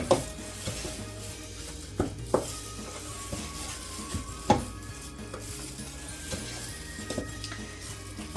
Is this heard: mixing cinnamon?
yes